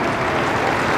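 Steady applause from a Test match cricket crowd with strong Indian support, greeting India's 300 against England, a dense, even wash of clapping that fills the moment without a break.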